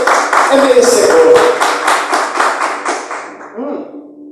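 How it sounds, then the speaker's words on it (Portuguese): A church congregation claps in quick rhythmic unison for several seconds, loud and close, then fades out while a voice speaks. "Palmas para Jesus, irmão. Bate palmas."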